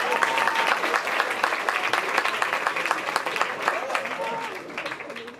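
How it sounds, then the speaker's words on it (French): A comedy show audience, the couscous comedy show, applauds the women in the crowd: a loud, sustained wash of many hands clapping for about five seconds, fading slightly at the end, with faint crowd murmur mixed in. "On applaudit pour elles."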